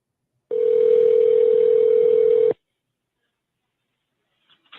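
A police dispatcher's outgoing call sounds one steady, loud telephone tone for about two seconds and then stops, leaving near silence with a faint trace of sound at the very end.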